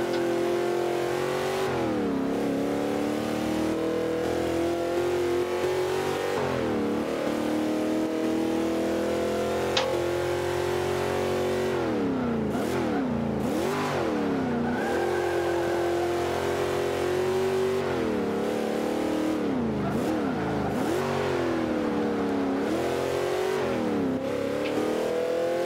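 Vintage American street muscle car racing in Forza Motorsport 5, its engine revving loudly and continuously, rising through the gears with repeated shifts and sweeping pitch changes, with no talk over it.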